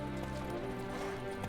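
Horse hooves clip-clop in The Witcher 3 video game, a steady close trotting rhythm over a continuous ambient bed, with no talk.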